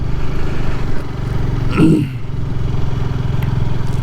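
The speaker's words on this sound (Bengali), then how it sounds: "একদম মাঠের মধ্যে দিয়ে সিবিআর চালাচ্ছি" A CBR motorcycle ridden across an open field on a river char, its engine droning loud and close throughout with a brief bump or clatter midway and a slight dip in revs after.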